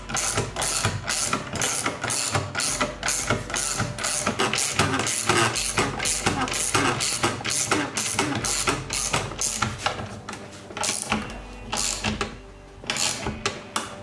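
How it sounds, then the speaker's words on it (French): Rapid ratchet clicking from a clamp being tightened on workbench legs, close and crisp in quick repeated bursts with short pauses between strokes, no voices. "Un petit coup de cliquet pour voir si ça rapproche parfaitement le truc."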